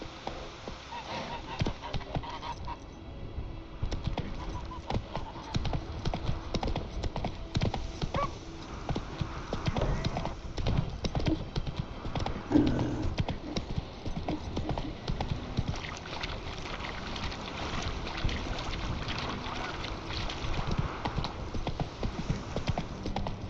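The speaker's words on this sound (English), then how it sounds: "Run, Roach." Hooves clip-clop in a steady rhythm as a horse runs in The Witcher 3: Wild Hunt, mixed with game sounds and occasional honking bird calls, moderately loud throughout.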